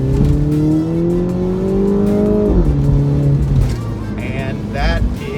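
Engine of a 2019 Mini Cooper S John Cooper Works accelerating: a loud, rising engine note climbs through the revs, dips at a gear change, then pulls again, with road and wind noise beneath.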